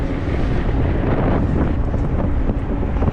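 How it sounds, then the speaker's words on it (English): Strong winter wind on a mountain roars and buffets the microphone in a constant loud rush of broadband noise, with no voices. "It's so windy."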